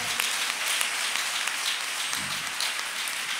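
A church congregation claps together in steady, dense applause, loud and continuous for a few seconds.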